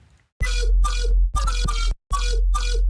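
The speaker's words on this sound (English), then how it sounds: "And then I added some distortion." A short, heavily distorted synth loop plays in choppy bursts with abrupt gaps, gritty and loud with a thick low end.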